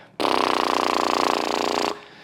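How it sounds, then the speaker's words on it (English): An unpitched lip trill: a breathy, rapid flapping of the lips, close and steady for nearly two seconds, starting and ending abruptly. "Here's an unpitched lip trill."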